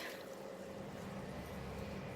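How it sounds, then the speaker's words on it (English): Diluted coconut milk being poured into a pot of pumpkin on the stove, a quiet, steady liquid pouring and bubbling hiss with no breaks and no voices. "I'm going to on the heat and pour in the diluted coconut milk"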